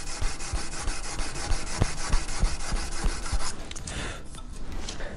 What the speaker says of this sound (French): là j'attaque avec du grain 240 et donc on va travailler sur toute la lame